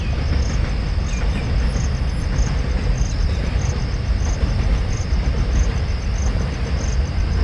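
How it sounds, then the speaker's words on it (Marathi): A train passing in the morning, heard as a broad, steady low rumble that holds for the whole stretch, with insects chirping at regular intervals above it and no talking. "सकाळी सकाळी पुन्हा ट्रेन आलेली आहे आणि आवाज ट्रेनचा पहा."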